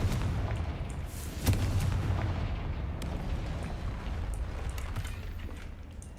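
A Confringo blasting spell cast at a barrier in Hogwarts Legacy on PC, one sharp explosive burst followed by a rumbling, crackling decay over steady background ambience, moderately quiet overall.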